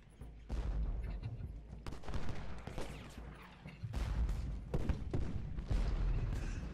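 Artillery in the Civil War battle game Ultimate General: Gettysburg, a series of heavy booming volleys and crackling gunfire at mid distance, several bursts spread across the stretch, loud against a steady battlefield din.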